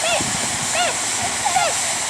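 A fire truck hose sprays water in a steady, loud, broadband hiss that runs unbroken throughout, with children's and adults' voices rising over the rushing spray.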